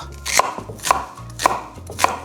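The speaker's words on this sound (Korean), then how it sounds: "양파도 깍둑 썰어 준비해 주세요" A knife chops an onion into cubes on a board four times in an even, unhurried rhythm, each stroke a sharp close thud.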